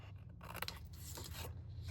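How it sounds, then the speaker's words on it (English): Scissors snipping through the paper tab of a handmade birthday treat bag, a short close crisp cut with soft rasping, quiet and alone. "Then I'm going to cut off this tab"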